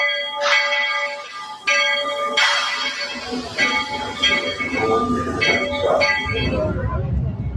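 A train bell clangs repeatedly with ringing metallic tones, then a rumbling rolling noise builds beneath it; voices can be heard in the background.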